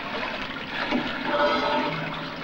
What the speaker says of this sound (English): I think somebody's left the tap on, sir.